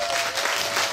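Crowd clapping at a live traditional Korean pumba (gakseori) performance: a brief, dense burst of applause filling the moment without any voices.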